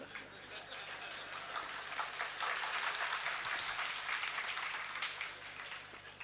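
An audience at an afternoon religious discourse in Nemawar applauds with sustained, fairly distant clapping that swells and then fades gradually.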